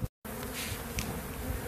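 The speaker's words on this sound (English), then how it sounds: "Bees are scrambling and rambling." Honey bees drone and buzz densely around an opened hive, a close, steady swarming hum after a brief silent gap at the start, with no speech.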